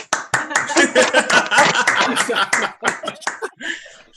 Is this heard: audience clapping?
yes